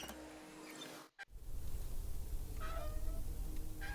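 Cat meows in the Deponia Doomsday adventure game, two short rising calls close together near the end, heard over a low game background hum after a brief dropout.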